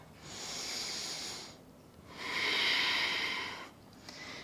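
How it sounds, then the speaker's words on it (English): Slow, deep breaths are drawn through the nose while holding a yoga pose: two long, audible, airy breaths close to the listener with a short pause between, and no talking. "Few more breaths here."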